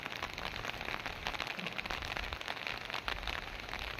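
Rain falls during a hailstorm in Belagavi, Karnataka, with the downpour easing; a steady, faint hiss of rain persists evenly throughout, with no voices.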